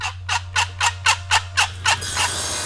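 A wild turkey gobbles in a rapid series of about seven sharp, loud bursts answering a box call, closing in a longer rattling gobble, with a steady low hum beneath.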